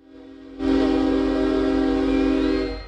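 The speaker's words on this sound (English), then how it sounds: "A funeral train pulled by engine number 4141 carried the nation's 41st president to his final resting place" Locomotive number 4141 hauling a funeral train sounds a loud, sustained horn chord that starts abruptly after a quiet rail rumble and holds steady for over two seconds before easing off.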